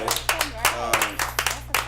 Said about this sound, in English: Clap it up, brother.